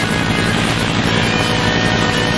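A helicopter in the Teenage Mutant Ninja Turtles 2003 video game gives a continuous, loud engine and rotor drone that stays steady without fading.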